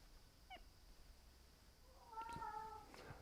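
A house cat meows indoors, a faint short mew followed by a longer, louder drawn-out meow and softer trailing calls, set against quiet room hiss.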